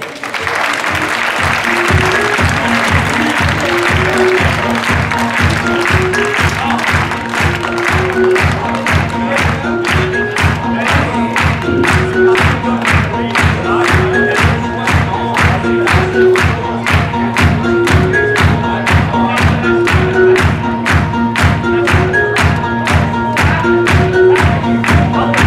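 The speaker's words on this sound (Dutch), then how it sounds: "Geef hem een daverend applaus." At the Miss Goddess 2017 pageant, a crowd gives thunderous applause for a Flemish singer, loud clapping in steady rhythm over pulsing music that runs unbroken for the whole stretch.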